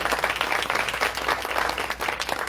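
A round of applause from the audience at a Greek Week political action and networking mixer, dense and continuous clapping with no pauses.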